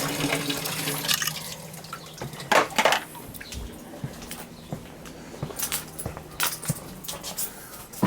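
Water rushes through newly installed PEX pipes in a house with a steady hiss, broken by scattered clunks and knocks, and faint voices in the background.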